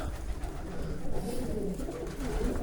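Pigeons coo and flutter at a crowded pigeon market in Zgierz, a dense steady bed of bird calls close by with busy crowd murmur underneath throughout.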